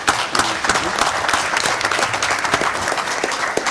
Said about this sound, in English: I think that deserves a round of applause for our city.